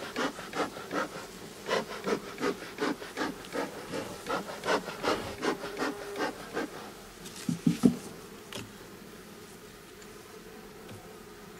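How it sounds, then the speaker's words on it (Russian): Honeybees work around hive frames at a Belarusian apiary. A faint buzz sits under a regular series of soft rubbing, scraping pulses, with a few sharper knocks near the end. "Пчелы миролюбивые, работаем без экипировки."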